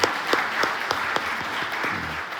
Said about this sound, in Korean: 우리 시온 찬양대를 향해서도 감사와 격려의 박수 올려드리면 좋을 것 같습니다.